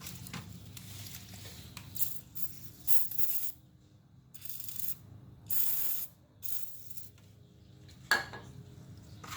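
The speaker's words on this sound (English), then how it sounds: "I'm gonna spray some WD-40 first" WD-40 is sprayed onto the water pump lips of a 1996-2002 Toyota Camry in several short, hissing bursts between quiet pauses, close by, with a sharp metallic clink near the end.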